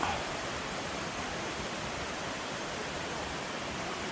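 A river flowing below the road at Sungai Dara, a steady broadband rush of water that stays even throughout, with no voices over it.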